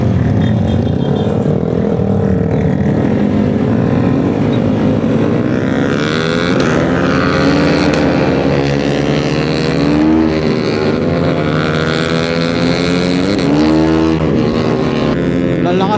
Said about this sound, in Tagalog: Lakas na mga motor.